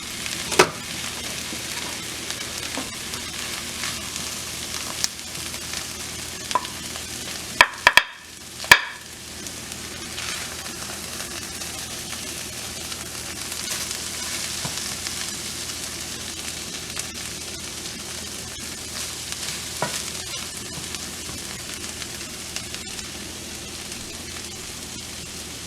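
Homemade corned beef hash browning in a pan on the stove, a continuous crackling sizzle with occasional sharp scrapes and clatters of stirring, close and steady throughout.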